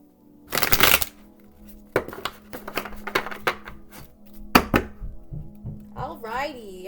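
Oracle cards being shuffled in a heart oracle deck, a loud burst of riffling near the start followed by a series of soft, quick card taps and shuffles over a faint steady hum.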